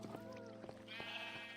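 Sheep bleating in Minecraft, several short wavering bleats in quick succession, fairly quiet and close, with no talking over them.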